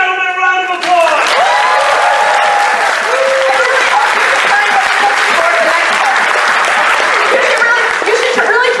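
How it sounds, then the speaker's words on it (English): Loud, sustained applause from a crowd at the Anthrocon 2018 furry convention fills the room, steady clapping throughout, with a voice briefly heard at the start. "let's give this gentleman a round of applause"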